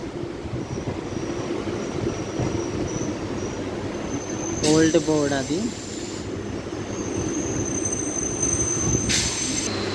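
An MMTS local city train in Hyderabad rumbles along the rails with a steady low roar, broken midway by a brief, loud, wavering wheel squeal. A voice speaks over the noise.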